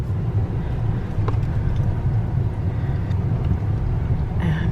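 A Ritz-Carlton car service vehicle drives to the airport, heard from inside as a steady low road rumble and engine drone, with faint voices briefly in the cabin.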